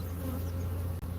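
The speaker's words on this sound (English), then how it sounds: "these bees that are flying around here are not going to go start a new hive" Bees flying around a hive, a close, low droning buzz that holds steady with slight wavering, briefly cut by a sharp click near the end, with no voices.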